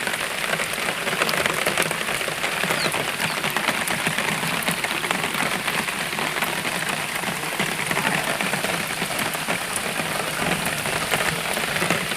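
Heavy rain pours down steadily, a dense even hiss of drops on surfaces with no voices, keeping a constant moderate level throughout.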